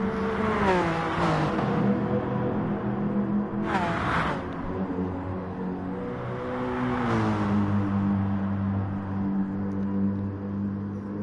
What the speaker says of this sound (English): Car noises, tire noises, crowd noises, Tati noises.